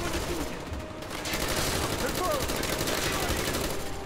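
Gunfire shooting through cover in the video game Call of Duty Black Ops: rapid automatic fire rattles in quick, even bursts, fairly close and steady, with other battle noise behind it.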